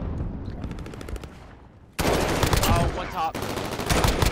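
Automatic gunfire crackles in a Call of Duty Hardpoint match on the Azhir Cave map, with dense bursts that drop away briefly and then return loud and sustained, while a player's voice calls out over the shooting.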